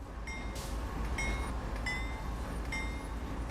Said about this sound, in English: so I can get the train moving